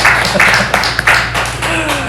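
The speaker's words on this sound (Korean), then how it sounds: "하나님께 영광의 박수 올립니다" A church congregation claps together during a Sunday worship service, a brief burst of applause with broad, dense hand claps and a reverberant room tone, with some voices mixed in near the end.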